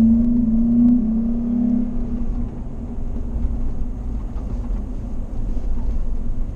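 A car accelerating, recorded from inside by a GoPro HERO5 Session used as a dash cam: a loud, continuous low engine rumble with a steady droning tone and road noise throughout, no talking.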